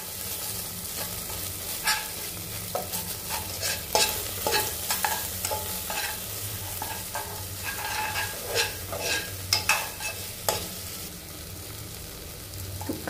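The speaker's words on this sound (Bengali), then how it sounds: "এটাকে একটু হালকা নেড়ে চেড়ে একটু ফ্রাই করে নেব যতক্ষণ না তেলটা ছাড়বে।" Ginger and green chilli paste sizzling in oil in a pan while being stirred, a continuous close frying hiss broken by repeated scraping and clinking strokes of a spatula, no one speaking.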